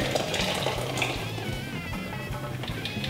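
Vegetable juice of cucumber, lime and ginger pours in a steady, splashing stream into a container, a continuous trickling gurgle for a few seconds.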